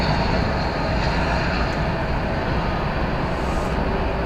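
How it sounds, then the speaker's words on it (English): A Cessna 208B Supercargo Master turboprop at DFW Airport, a loud, steady broadband engine roar with a sustained whine, close and unbroken throughout. "This is a Cessna 208B Supercargo Master."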